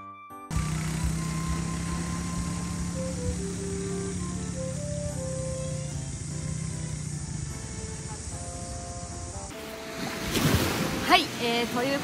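Ocean waves on a New Zealand coastal trail between Awaroa and Totaranui, a steady wash of surf mixed with wind, under a held musical tone, then louder gusty rumble near the end.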